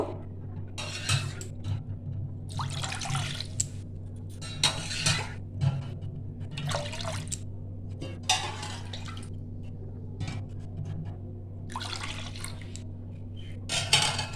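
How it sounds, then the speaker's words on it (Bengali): Four cups of milk poured into a frying pan: intermittent splashing and pouring bursts, close and fairly quiet, over a constant low electrical hum. "চার কাপ আমি দুধ নিলাম। এই দুধটাকে আমি ভালো করে 3 থেকে 5 মিনিট ভালো করে ফুটিয়ে নিচ্ছি।"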